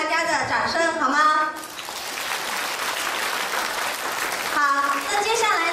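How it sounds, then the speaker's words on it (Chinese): Wedding guests break into a burst of sustained, full-room applause. The clapping sits between stretches of a master of ceremonies talking through a microphone. "来，再一次起立向大家示意，接受大家的掌声好吗？"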